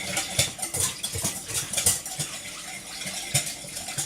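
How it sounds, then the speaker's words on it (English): Slaw dressing with celery seed whisked in a bowl, quick metallic clinks and rhythmic taps of the whisk against the sides, close and moderately quiet, with no talking. "And then I'm just going to whisk this up."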